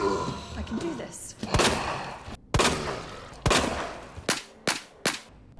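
Single gunshots from a weapon in Resident Evil 2 Remake, about six sharp loud cracks spaced irregularly, the last ones closer together, with a voice talking in between.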